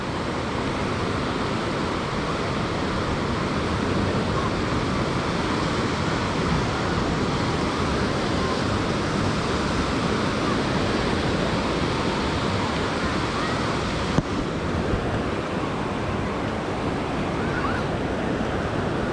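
Steady roar of ocean surf washing onto Echo Beach in Canggu, Bali, broad and constant, with wind buffeting the microphone.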